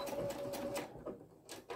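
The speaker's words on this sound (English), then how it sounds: "slide that underneath your machine, and just do a tacking stitch" Sewing machine running a short tacking stitch on a fabric welding cap, a quick rhythmic series of needle clacks with a faint motor whine, fairly quiet and close, then a brief pause and one more burst.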